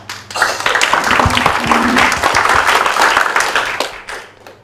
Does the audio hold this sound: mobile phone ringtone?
no